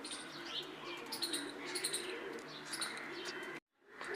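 Low-flyer pigeons, a red Cheena pair, cooing close by with soft chirps and calls over steady ambient background, ending in a sudden brief silence.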